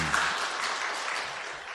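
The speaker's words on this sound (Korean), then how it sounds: "앞으로도 잘 감당해 달라고 여러분 뜨겁게 박수해 주세요." A church congregation at an early-morning Lenten prayer service breaks into warm applause: dense, steady clapping that fills the room close and full for the whole stretch.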